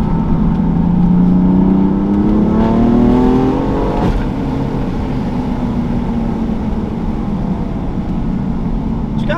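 A BMW M3 F80 with a six-cylinder turbo engine and over 190,000 km, a US re-import, revs steadily and loudly, the pitch climbing and then settling into a sustained drone.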